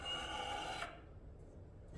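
A hook knife is sharpened on a whetstone: one faint, dry rasping stroke of steel against stone lasts just under a second, then cuts off into near silence.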